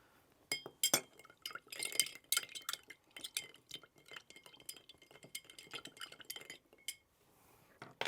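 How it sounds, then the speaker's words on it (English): Tequila amaretto cocktails are stirred in glasses over one big clear ice cube, giving a quick run of bright clinks and taps of the spoon against ice and glass, close and crisp, with no talking. "And then give these a stir. We've built this in a glass with a nice big clear ice cube."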